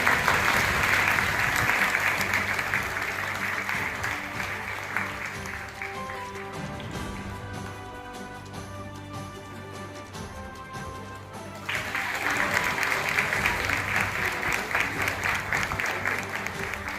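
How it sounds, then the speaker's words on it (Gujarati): Loud applause from an audience at a special event in a community hall in Bharuch, with steady dense clapping that dips briefly in the middle, where sustained musical tones sound, before rising strongly again. "જેમની જોરથી તાળી પડશે એટલું જોરથી આપણું કામ થશે."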